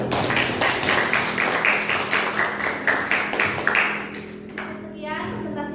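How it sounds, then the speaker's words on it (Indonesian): A classroom of pupils claps for a group's presentation, a dense run of hand claps that carries on for about four seconds and then breaks off, with children's voices talking over it. "Kasih aplaus tepuk tangan untuk kelompok 5"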